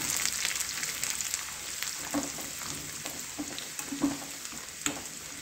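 Crushed garlic frying with peanuts in a hot pan, a steady close sizzle with crackling pops throughout, heard alone without talk.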